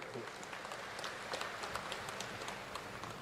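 Audience applause at an international millet convention in Odisha, following a speech about the Odisha Millet Mission: steady, dense clapping from a crowd, moderately distant and even throughout.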